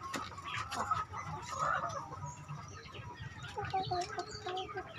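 Free-range village chickens in a backyard breeding coop cluck and call repeatedly at moderate distance, with scattered overlapping bird sounds across the whole stretch and no talking.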